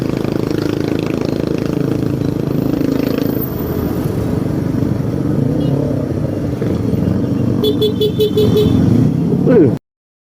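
Car horn blaring amid traffic on a Philippine road, sounding loud and close over steady engine and road rumble, with a short burst of rapid toots near the end before the sound cuts off abruptly.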